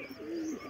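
Fantail pigeons give a soft, brief coo, a single low murmuring call heard fairly close and faint, with no voices over it.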